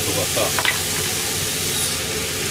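Green peppers cooking in a pan over low heat to draw out their water, a steady close sizzle with occasional stirring scrapes, with no clear speech over it.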